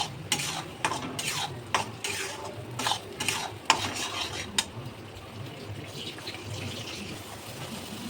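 A spoon stirs paneer butter masala in a pan, scraping in quick, regular strokes for a few seconds before settling into a softer, steady sizzle, close and without talk.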